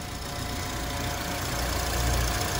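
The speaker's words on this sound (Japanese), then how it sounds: "はい、エンジンかけてみました。" A Honda Civic Type R (FD2) engine idles steadily and close by, a low continuous rumble with no voices over it.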